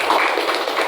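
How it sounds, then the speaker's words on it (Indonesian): A school graduation audience applauds for students, a dense, steady patter of many hands clapping together at close range. "Tepuk tangan untuk yang ketiga ini."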